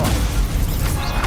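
Stupefy spell cast in Hogwarts Legacy: a short, loud, dense magical burst with a booming low body and crackling sizzle, lasting barely over a second.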